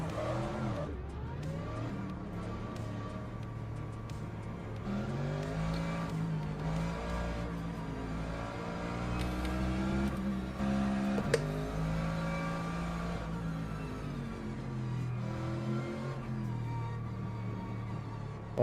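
Race cars in a racing video game roll through the formation lap, their engines droning and revving with shifting pitch in a continuous close mechanical whine.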